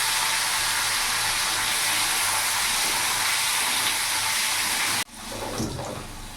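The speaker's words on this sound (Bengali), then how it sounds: "ওই তেলের মধ্যে আলুগুলো ভেজে নেব।" Potato pieces fry in hot oil in a pan, making a loud, unbroken sizzling hiss for about five seconds before it abruptly drops to a quieter bubbling.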